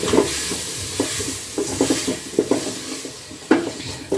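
Tomatoes are stirred into frying omena sardines in a pan, with a soft sizzle underneath and irregular scraping and clacking strokes of the spoon against the pot, close and fairly loud.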